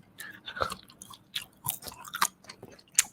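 Crispy french fries dipped in mixed chili and tomato sauce are chewed close up, giving irregular crunchy bites and wet chewing bursts with short quiet gaps between them.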